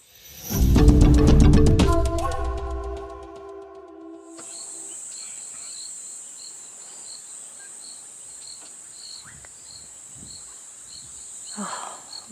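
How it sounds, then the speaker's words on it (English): Insects and frogs calling at sunset on an African safari, a steady high chirring drone with pulsing notes that carries on after a loud harmonic tone fades out early, with faint scattered calls and a brief stir near the end. "We've got a mix of insects, frogs, some diurnal birds, some nocturnal birds."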